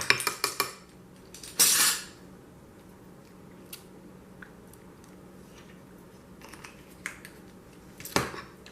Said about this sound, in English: And stir that in